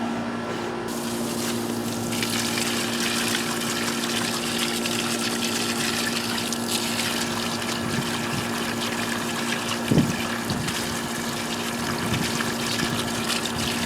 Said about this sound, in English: Now I'm going to take the hose and give them a little rinse.